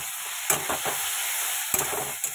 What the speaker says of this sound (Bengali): এবার করলাগুলো ভেজে নিচ্ছি।